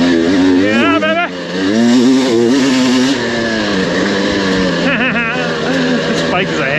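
Motorcycle engine revving and droning steadily up close while riding a rough gravel logging road, pitch rising and falling with throttle changes, a rider's voice speaking over it.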